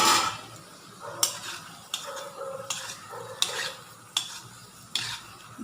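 Bread gulab jamun fry in hot oil in a pan, with a soft sizzle under repeated sharp clinks and scrapes of a utensil turning them at a steady rhythm.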